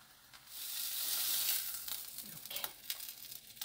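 A napa cabbage buckwheat pancake fries in a pan, a steady close sizzle that swells then settles into crackling pops and spatters.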